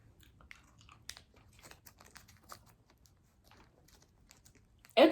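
Hard Central/West African gum that starts like a hard candy and softens into bubble gum, chewed up close with faint, irregular crunching clicks, ending in a brief louder burst.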